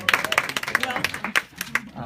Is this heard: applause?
yes